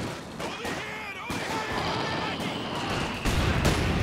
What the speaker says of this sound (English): that sounded like a heavy barrage there for a minute